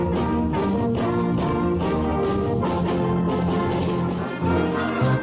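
A school jazz band plays a steady, full ensemble passage with dense sustained harmonies and a regular beat, loud and continuous throughout, with no talking.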